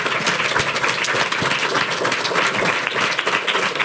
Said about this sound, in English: Can we give our panelists one more round of applause?